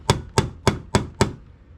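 Five sharp, evenly spaced metal hammer strikes ring out close and loud as rivets are knocked out of a Model A Ford emergency brake band, each blow decaying briefly before the next, with no talking.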